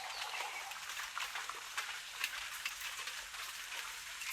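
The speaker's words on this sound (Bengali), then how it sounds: "একটু বৃষ্টিটা হালকা হয়েছে" Light rain falling outdoors in a village area, a steady soft patter of drops with a hissing wash and faint irregular ticks, fairly quiet and even throughout with no voices.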